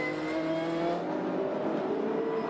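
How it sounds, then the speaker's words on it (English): Group of 1992 touring cars, including a Winfield Nissan, racing side by side at Amaroo Park Raceway, engines droning and revving steadily at close range without talk. "Side by side, and Richards in the Winfield Nissan"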